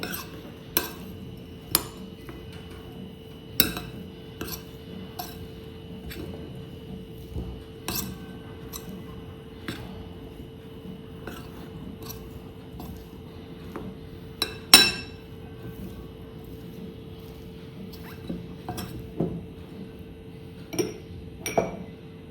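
Crushed peanut powder is mixed into soaked sabudana for khichdi, marked by scattered light clinks and taps of a spoon against a dish over a soft rustle, close and quiet, with no speech.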